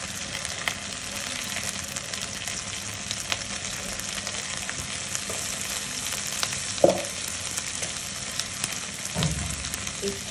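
Barbecue spice mix sizzles and fries steadily in a pan alongside ginger, garlic, turmeric and chili, a continuous close crackle with occasional stirring clinks.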